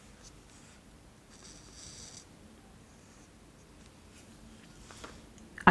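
A pen colours small mount board and MDF model kit pieces yellow, giving soft, faint scratchy strokes in short bursts against a quiet background.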